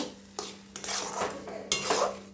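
Chana dal being stirred with melted sugar and jaggery in a pan, a few distinct scraping sweeps and metallic clinks of the spoon, close and moderately loud, with a faint sizzle beneath.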